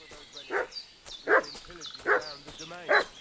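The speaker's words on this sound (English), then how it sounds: "What's that dog making such a fuss about?" A dog barks in the video game Kingdom Come: Deliverance II, four sharp barks in an even rhythm about three quarters of a second apart, close and loud, with fainter game sounds between them.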